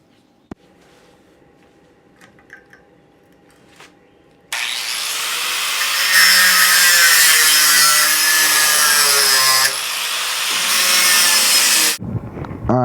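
A power saw cuts through go-kart parts, a loud, steady grinding that runs for about seven seconds and then stops abruptly. Quieter handling clatter comes before it, and there is no talking.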